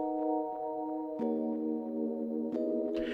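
A Rhodes electric piano sample drenched in reverb, with no EQ applied, plays sustained chords that change twice, each new chord opening with a clicky attack; soft and spacious, no voices.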